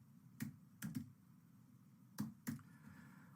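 A few sparse, quiet keystrokes on a computer keyboard, isolated clicks in pairs against a low background hum, close and soft.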